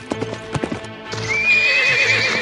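A horse's hooves clip-clop in a quick galloping rhythm, then give way to a loud, drawn-out neigh, close and clear.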